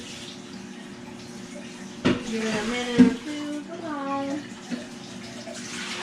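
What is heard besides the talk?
water running from a kitchen tap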